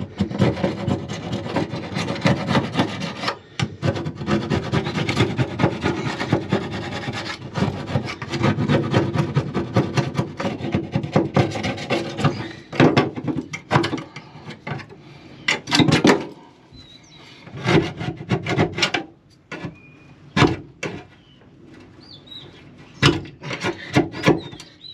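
Scraper dragged over a car part to lift stubborn residue, rough rasping strokes that start dense and continuous, then break into separate, spaced scrapes with short pauses, close and fairly loud.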